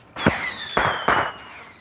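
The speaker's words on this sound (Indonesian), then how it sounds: "tetangga mereka bermain petasan yang tentu saja suaranya sangat mengganggu" Firecrackers set off by neighbours in a film scene: three sharp bangs about half a second apart, loud and close, each trailing into a brief crackle, with a thin whistle-like tone running underneath.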